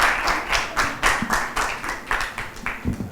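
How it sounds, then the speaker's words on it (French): A group claps in unison at a children's quiz competition, a steady rhythmic run of sharp hand claps repeating for a few seconds, fairly close. "5 fois, applaudissez."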